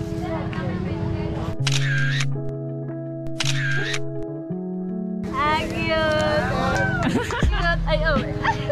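A single-lens reflex camera shutter clicks during an outdoor photo session on a campus, set among ongoing talk, background chatter and music, with the snaps heard only briefly.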